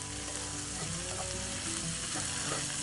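Onions sweating in a pan alongside bacon give off a steady, dense sizzle and crackle that holds evenly loud and close throughout, with no voices.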